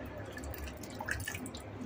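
A little water is added to a tofu and minced pork sauce: a soft trickle and drip of water into the pan, steady and close, with low background hum and no speech.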